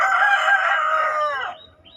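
A rooster crows once, loud and close, the call trailing off into a short cluck at the end.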